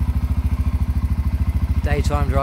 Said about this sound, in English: So keys on, push to start.